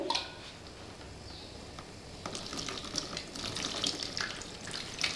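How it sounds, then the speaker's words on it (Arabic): Hands washed under running tap water, a steady hiss of flowing water broken by splashes and wet rubbing that grows busier and louder partway through. "لغسيل اليد الروتيني أنا بغسل يدي من أعلى عشان جسمي يكون بعيد من أي عدوى، بغسل يدي من الأسفل"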